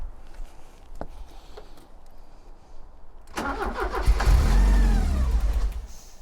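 Porsche 944 engine cranking with a few short bursts, then catching and running loudly with a rough, rising rumble that holds steady to the end.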